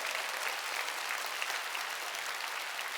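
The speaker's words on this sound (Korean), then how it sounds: "박수 치려면 세게 치라고요" A church congregation at a Wednesday worship service claps hard together, a dense, steady roar of many hands that holds evenly for about three seconds without a break.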